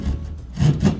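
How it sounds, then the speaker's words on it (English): A hand saw rasps through drywall in a short burst of close, loud back-and-forth strokes, with no talking. "Now we just take the saw."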